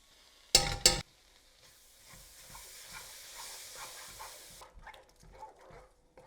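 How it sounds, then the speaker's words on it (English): Yogurt being stirred continuously into a hot pan for paneer kathi rolls: a soft, spread-out sizzle with repeated scraping stirs, preceded by two sharp loud clanks near the start, then quieter light stirring toward the end. "I'm going to add 100 grams of yogurt. You could use natural, you could use Greek yogurt, and then I'm going to continuously stir this"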